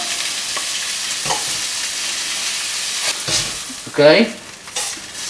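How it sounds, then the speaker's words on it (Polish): Pork loin sizzles steadily in hot lard, with a soft crackling hiss, a few scraping stirs and a brief spoken word near the end. "Smażę na smalcu oczywiście"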